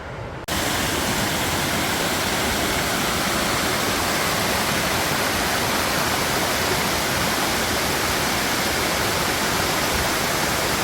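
A steady, loud roar of King Creek Falls fills the whole recording, broadband and unbroken after a brief quiet start.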